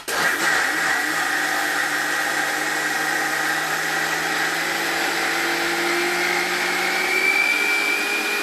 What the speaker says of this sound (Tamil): இப்போ இந்த ஊற வச்சிருக்கிற அவலையும் கலந்து அரைச்சி எடுத்துக்கலாம்.